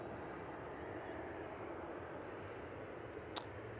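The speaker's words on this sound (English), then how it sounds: "the Virgin Atlantic A330 from Barbados past Oldham, just turning on to finals now" A Virgin Atlantic Airbus A330 arriving from Barbados on approach to Manchester Airport, a steady distant engine roar with a broad rumble holding evenly throughout, faint and unbroken, with one brief click near the end.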